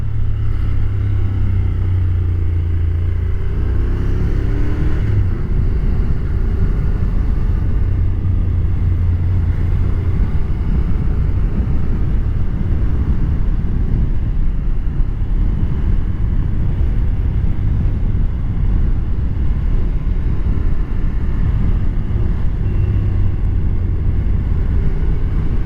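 A Honda NC750XA motorcycle cruising along a highway, giving a steady, loud low engine drone mixed with constant wind rush for the whole stretch, with no one speaking.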